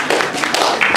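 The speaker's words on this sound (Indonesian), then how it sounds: "Tepuk tangan dulu." A small group claps hands in a dense, quick burst of applause, close and fairly loud, lasting about a second.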